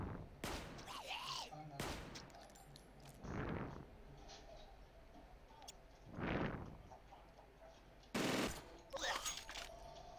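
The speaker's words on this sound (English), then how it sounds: "Now you shooting, Tex." Gunfire in the turn-based game Stellar Tactics: several separate bursts of shots, sharp and fairly quiet, spaced a second or two apart over a low background hum.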